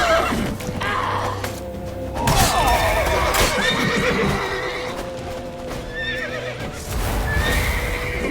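Horse neighing and whinnying in The Witcher 3: Wild Hunt, with hooves clip-clopping among busy game sounds; several whinnies rise over a steady background.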